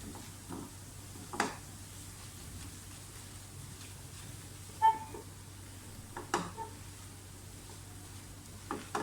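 Flour being roasted for white sauce crackles faintly in a pan, with scattered spoon scrapes and taps over a quiet low hiss.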